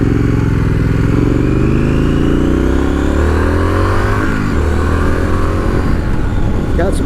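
A 2020 Triumph Street Scrambler motorcycle engine revs loudly while riding, its pitch climbing steadily through the gears before settling, heavy and close, with wind noise and a rider talking underneath.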